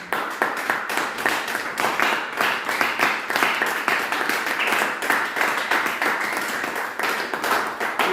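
A church congregation applauds after a sermon, steady dense clapping from many hands continuing at an even level for several seconds with no pause.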